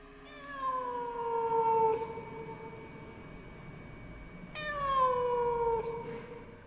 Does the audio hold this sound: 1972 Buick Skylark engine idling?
no